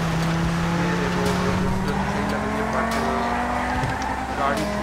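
A car drifts in the GTA 5 video game, its engine droning with a steadily rising pitch while tires squeal in short bursts, loud and continuous in the foreground.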